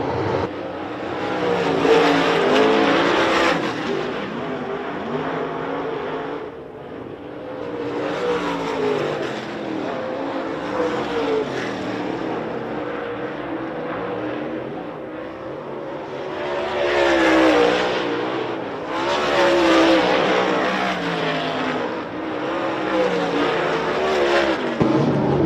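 Race cars circle a dirt speedway during super late model and modified heat racing, engines roaring loud and steady with swells as packs pass close by, no talk over the sustained engine noise.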